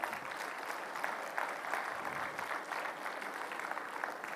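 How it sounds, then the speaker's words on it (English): At a National Space Day 2025 event, an audience claps steadily and evenly for several seconds, a dense, moderately distant round of applause with no one speaking over it. "Let's have a huge round of applause."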